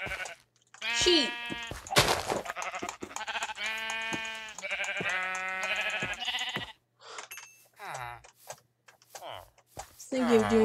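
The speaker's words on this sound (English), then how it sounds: "Sheep." Sheep bleating in Minecraft, played in hardcore survival mode, with several repeated bleats in close succession that sound up close and fairly loud, separated by short gaps.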